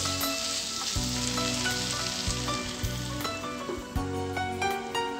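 Spring onion tomato masala cooking over medium heat, a soft, even sizzle close by that runs steadily beneath prominent tonal background music.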